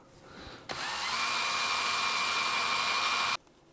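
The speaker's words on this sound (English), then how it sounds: "we're going to drill a hole right there" A power drill bores a hole straight through a box, sized for a 6mm bolt, in an off-grid solar repeater build. The motor whines loud and steady for nearly three seconds, then stops abruptly, with no talking over it.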